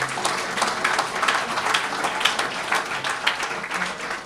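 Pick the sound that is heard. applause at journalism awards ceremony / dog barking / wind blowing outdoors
applause at journalism awards ceremony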